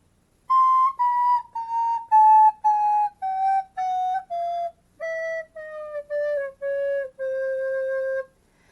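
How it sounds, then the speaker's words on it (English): A recorder plays a chromatic scale slowly, note by note, about fourteen clear, breathy tones descending step by step with short gaps between them, close and alone. "Also play the full chromatic scale on the recorder."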